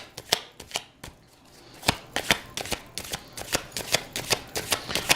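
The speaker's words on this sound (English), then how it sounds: "We're gonna pull some cards on that in a soon" Tarot cards shuffled by hand, a close, crisp series of rapid flicking snaps in uneven bursts that speed up toward the end, with no talk.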